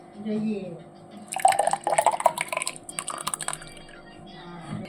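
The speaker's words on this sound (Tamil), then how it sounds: "இந்த கிளாஸ் பவுல்லையும் நம்ம கொஞ்சம் ஊற்றிக்கலாம்" Fruit juice jelly pours into a glass bowl, a short burst of dripping and splashing liquid close by, with someone speaking before and after the pour.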